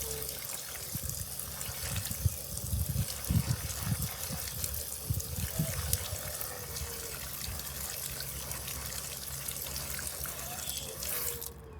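Water runs from a hose or tap to deep-water a garden bed, a soft steady trickle and splash nearby with a few louder gushes early on, then a quieter continuous flow.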